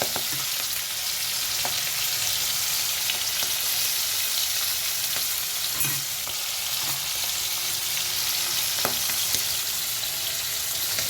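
Prawns fry in a pan with black cumin, a dense, steady hiss of sizzling oil with faint occasional clicks, close and even throughout, no speech.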